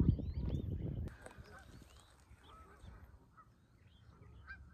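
Geese honk faintly at a distance, scattered calls following a brief loud rumble at the start.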